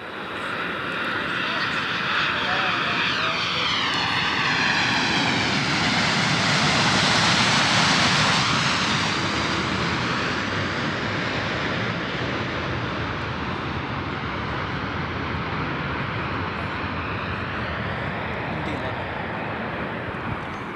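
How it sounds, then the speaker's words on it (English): An MD-11 airliner coming in to land, a loud, steady roar of jet engines that swells toward the middle and then holds, with a high whine sweeping down early on. "what you heard through the microphone there, maybe you can hear it, was an MD-11 landing"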